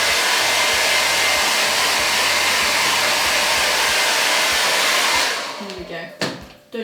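A hair dryer blows warm air over handmade chocolate truffles, a loud steady roar for about five seconds that cuts off abruptly, leaving quiet handling noises.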